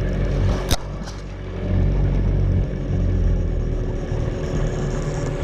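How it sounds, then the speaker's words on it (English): A fishing boat engine runs as a low, steady rumble near the microphone while the throttle eases back slightly, the drone dropping a little partway through, with one sharp knock early on. "We'll just pull back a tiny bit on the throttle."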